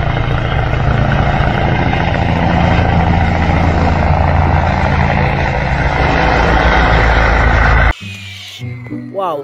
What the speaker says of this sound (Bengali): premium quality navy helicopter